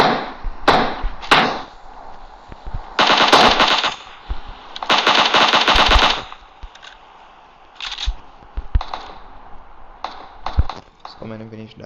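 Gunfire in PUBG Mobile on the Livik map comes as loud bursts of automatic fire and single shots, with pauses between the volleys and a few quieter shots near the end.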